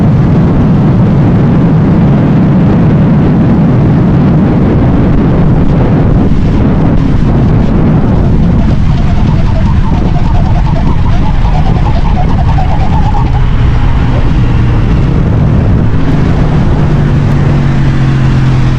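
A motorcycle speeding down a highway at over 80 mph with a speed wobble, heard as a loud, constant roar of engine and wind buffeting with no break, the tone shifting slightly toward the end.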